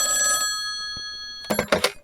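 An old telephone bell rings in a radio drama, a brief trilling ring at the start fading into silence, followed by a few quick clattering knocks near the end.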